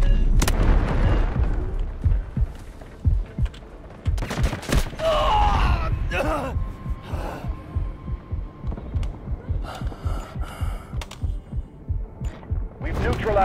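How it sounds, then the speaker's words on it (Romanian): A heavy grenade blast booms in the Delta Force shooter game, followed by a string of rapid gunshots that rattle on in a steady rhythm, close and punchy. "Grenade on the way!"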